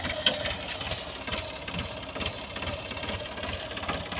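A tractor engine runs steadily while sowing wheat in a field, a continuous mid-pitched rumble with a rapid knocking pulse and no voices.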